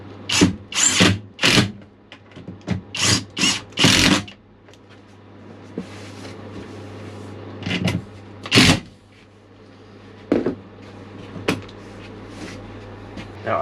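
Long screws driven with a power drill into a wooden camper bed frame, coming as loud repeated bursts of whirring at first, then a few sparser, spaced drill runs with quiet pauses between.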